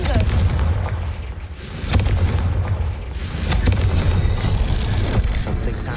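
A Confringo blast spell from the game Hogwarts Legacy erupts as loud booming explosions over a sustained rumbling roar, with bursts around the two- and three-second marks.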